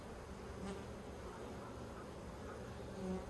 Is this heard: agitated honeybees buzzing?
yes